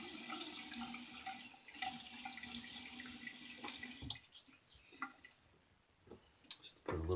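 Tap water running briefly while wetting a bowl of shaving soap with a 1914 Ever Ready lather catcher nearby, a quiet trickle and splash for several seconds, then stopping, followed by faint drips and handling sounds.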